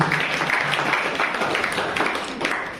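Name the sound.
applause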